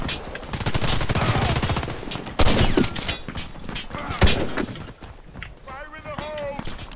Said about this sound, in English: Just randomly shooting.